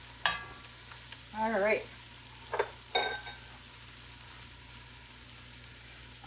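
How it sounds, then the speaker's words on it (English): A spoon stirring stock into bacon fat, butter and flour in a pot, soft and brief scraping with a few clinks, while a voice speaks a couple of words. "And then we will go ahead and mix our stock in."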